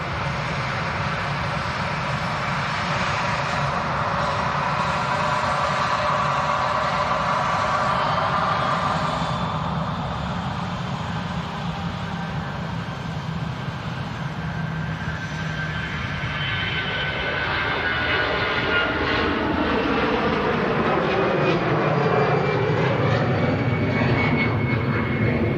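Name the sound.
Iberia airliner on takeoff roll at Manchester Airport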